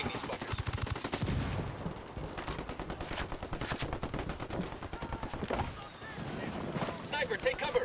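Ghost Recon Wildlands video game firefight with dense, rapid automatic gunfire rattling almost continuously at close range, layered with scattered single shots and battle clutter throughout.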